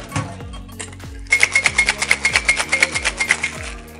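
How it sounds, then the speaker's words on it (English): A cocktail shaker is given a wet shake while mixing a Blueberry Collins with gin and lemon, a steady run of loud, rapid rattling strokes after a short lead-in, over faint background music. "Then you just give this a straightforward wet shake."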